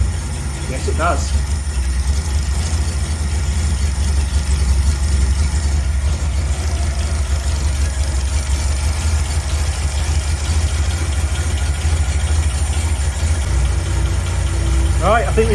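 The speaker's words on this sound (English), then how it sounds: "That's idling absolutely spot on." A Reliant Scimitar GTE SE6A classic car engine idles steadily at close range with a constant low hum, and a couple of brief voices break in near the start and the end.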